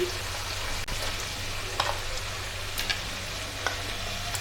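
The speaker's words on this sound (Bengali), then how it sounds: "এবার এর মধ্যে আমি আলুগুলো দিয়ে দেবো, আগে থেকে ভেজে রাখা আলুগুলো দিয়ে দিচ্ছি" Pre-fried potatoes go into a spice masala sizzling in oil for a salmon fish curry, giving a steady fry hiss with a sharp clack near the start and scattered light spatula taps afterward, no speech.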